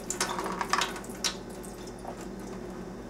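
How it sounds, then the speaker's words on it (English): Clam juice from a can pours and splashes into a sink, with a few brief splatters and drips over a quiet background before it settles to a faint trickle. "with the second can, you're actually gonna want to drain out the juice"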